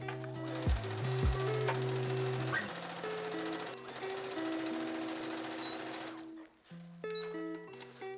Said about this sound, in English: I'm going to pin these in place and then sew down the seam here.